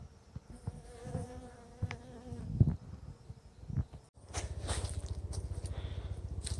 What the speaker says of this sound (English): all the bees in the air, it's telling them to land